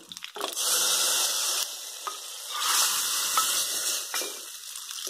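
Hot tempering is poured into fig (athikai) kootu, setting off a loud, steady sizzle that holds for several seconds and swells again partway through, with faint stirring clatter.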